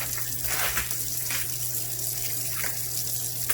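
Steady running tap water splashing continuously, a close, even rush with slight fluctuations as cabbage is rinsed under the stream.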